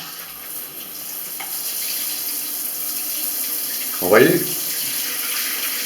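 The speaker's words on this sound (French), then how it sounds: "je vous montre la pression qu'il y a dans cette douche et la pression qu'il y a dans la petite" A shower's water stream hisses steadily, then a brief louder gush swells midway before settling back to the constant spray; someone speaks briefly over it.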